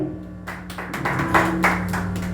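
Congregation at a church prayer circle claps for Jesus, a dense burst of applause rising after a brief hush and running steadily under a sustained, humming keyboard tone.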